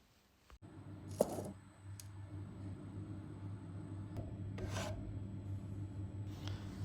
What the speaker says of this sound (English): After scraping the edges clean, I let the shells crystallize overnight at 16 degrees.